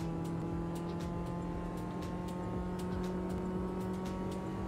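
A steady, droning car engine loop from the racing game Automobilista 2 hums continuously, broken by regularly repeating faint clicks from a glitch in the loop; no voices are present.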